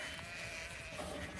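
Sheep bleating on a farm on a still, warm day, a faint call rising briefly near the end over a steady low background hum, with no voices.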